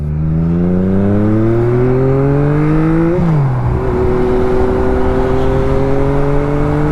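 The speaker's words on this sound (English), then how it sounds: "we're going to go ahead and kind of hit the gas here and just see what happens" A 2021 Yamaha MT-09 motorcycle accelerates on the road with a loud, close engine note rising steadily in pitch, briefly dipping at a gear change, then climbing again under steady wind noise.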